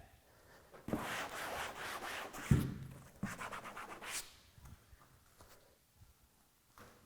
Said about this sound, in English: you can just give an extra scrub.